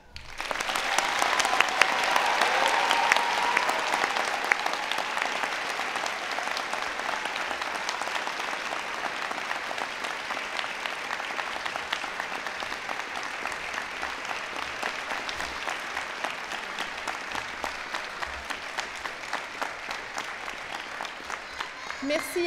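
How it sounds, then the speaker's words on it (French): An audience at a Faculty of Science degree-granting ceremony applauds the new doctors, long steady clapping that swells early and holds evenly for over twenty seconds, with faint voices underneath. "c'est le temps d'applaudir chaleureusement les nouveaux docteurs"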